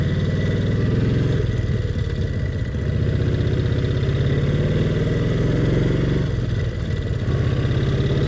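A Brough Superior SS80 vintage motorcycle engine pulling hard on the road in third gear, a loud, continuous droning roar with a rhythmic beat and a pitch shift as it shifts up, close and alone.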